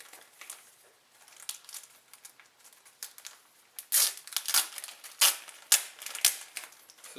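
Backing paper is peeled and a small Wolverine sticker is pressed onto a damaged 2007 Yamaha Wolverine 350 ATV. Soft crinkles come first, then sharper crackling and rustling bursts of the paper and vinyl, close up and with no talking.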